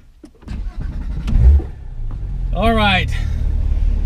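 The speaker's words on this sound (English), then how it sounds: "I like to have the windows down so I can hear the engine resonating off the mountain walls" A car engine starts and revs up on a mountain road, its pitch sweeping upward before settling into a steady growl echoing off the mountain walls; a voice speaks briefly near the start.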